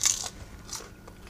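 Crisp crunching bites into freshly fried potato lángos with a crunchy crust and soft interior, two or three short crackly bites close up and fairly quiet.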